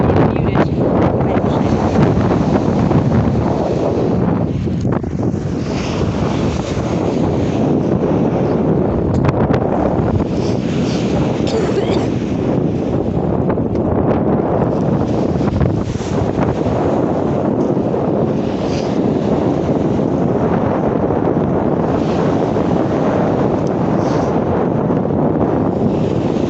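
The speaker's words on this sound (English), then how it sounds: "The wind's a thing, so if you want to mute it" Wind on Fort Worden Beach buffets the microphone in a loud, constant roar for the whole stretch, with little else audible.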